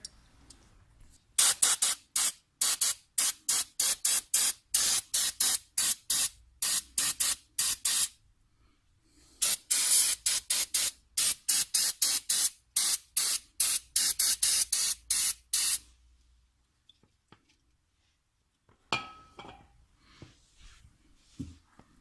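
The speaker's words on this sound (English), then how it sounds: "you want to go through and spray all this area right here" Rapid bursts of hissing aerosol brake cleaner spray onto a BMW E60 front brake assembly, repeating in quick rhythmic runs, pausing and resuming, close and crisp, with quiet gaps between sets.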